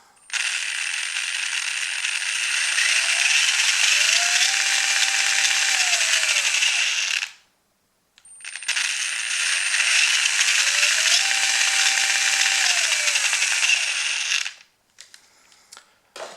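Tamiya TBLE-02S brushless RC motor spinning at higher RPM, a loud steady mechanical whine with a gear rattle, in two sustained runs separated by a brief pause.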